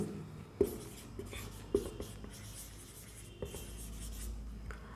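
A maths expression is written out in short, soft scratching strokes with a few sharper taps. The sound is quiet and close, with low background noise.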